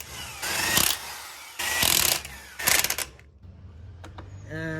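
Impact wrench driving wheel nuts onto a 1960s Electra King electric car: three loud rattling bursts of hammering, each about a second long, then a quieter metallic clatter and a brief whine at the end.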